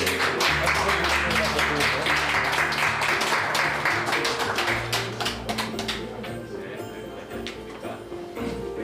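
An audience applauds at a Busan gathering of a Christian association with Ahn Cheol-soo, a dense, loud patter of many hands that tapers off over several seconds.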